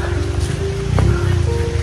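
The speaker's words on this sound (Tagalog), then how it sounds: "Nabot na kami ng ulan dito." Heavy rain pours down steadily in a mountain setting, a dense close hiss of drops on surfaces with a low rumble beneath, and a faint voice briefly rises above it.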